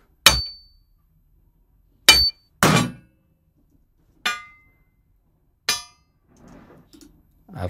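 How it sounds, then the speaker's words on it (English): Hammering foley for a First World War trench scene: about six hard metallic strikes spaced a second or so apart, each ringing briefly with a bright clang, loud and close, followed by a faint rattle. "I've got some hammering sounds."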